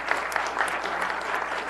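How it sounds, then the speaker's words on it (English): Steady applause from a crowd at a city council meeting fills the space, a dense patter of many hands clapping without pause. "please round of applause"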